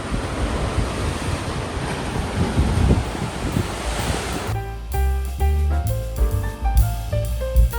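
Sea waves surge and break below the cliffs on Gozo, Malta, a steady, close roar of surf with wind buffeting the microphone for the first half before music takes over.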